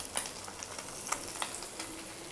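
Dried red chillies frying in hot oil in a pan alongside fish, giving a steady close sizzle with a few sharp crackles and pops scattered across the hiss.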